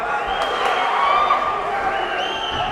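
A steady, moderately loud crowd roars and cheers throughout at an MMA lightweight bout, with no break in the noise.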